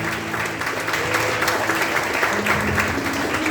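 A church congregation claps loudly and continuously during worship, with a thick wash of applause over faint background music or voices.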